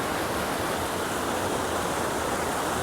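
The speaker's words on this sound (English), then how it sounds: "this is what my GPS is showing is Lyric Falls" Lyric Falls, a waterfall in Rocky Mountain National Park, pours down over big boulders as a loud, steady broadband rush heard up close with no voices.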